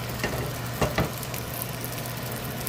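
Bacon sizzling in a pan on top of chicken, a constant crackling fry with a few louder pops and spatters, steady under a low background fan hum.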